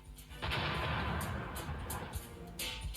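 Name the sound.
boat exploding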